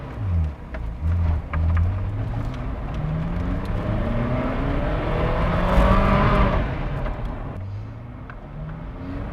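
A classic Ferrari V8 engine revs and pulls while driving, its loud rising and falling harmonic tones swelling toward a peak midway and easing off, with the steady roar carrying through the whole stretch and no speech over it.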